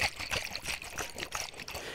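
Close ASMR water trickling and pouring, soft splashy bursts repeating in an uneven rhythm, fairly quiet and with no voice over it.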